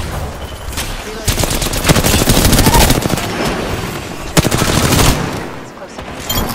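Rapid automatic gunfire from the video game Apex Legends, loud and dense bursts of shots crackling through most of the moment with a brief lull and a sharp burst midway, game sounds layered over it.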